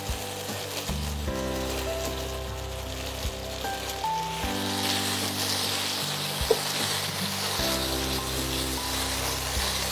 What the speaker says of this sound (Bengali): আমি এর মধ্যে এবার চিংড়ি মাছগুলো দিয়ে দিচ্ছি